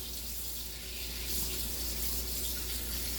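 Hot tap water streams steadily over a nitro engine part being rinsed after degreasing, a continuous close splashing hiss heard with no talk.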